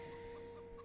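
A hen clucking in a farm video game, a short low burst of soft clucks over a steady tonal hum, faint and without speech.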